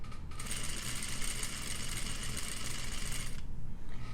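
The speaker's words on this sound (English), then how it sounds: "I'm going to sew down to this pivot point." A sewing machine stitches a patch pocket in one continuous, rapid mechanical run of a few seconds, close and clear, starting and stopping abruptly, with no talk.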